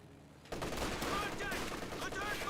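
An MG34 machine gun fires in Company of Heroes 2, starting abruptly as a dense, continuous rattle of rapid shots that holds steady for about two seconds, mixed with other battle noise at moderate level.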